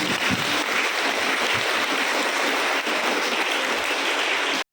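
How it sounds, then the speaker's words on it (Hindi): Audience applause at a farewell gathering for priests held by a parish in Nagrakata, steady dense clapping from a crowd that fills the whole stretch, loud and continuous before cutting off abruptly at the end. "तो जोरदार ताली सबों के लिए एक बार।"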